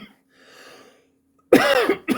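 Two close, harsh coughs in quick succession follow a brief quiet stretch with a faint breathy sound.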